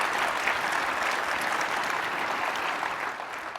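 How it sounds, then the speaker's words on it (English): Leadership summit audience applauding a speaker's introduction, a dense sustained round of clapping that stays loud and tapers slightly at the end. "it's definitely worth applause."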